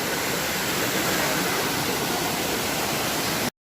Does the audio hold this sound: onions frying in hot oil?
no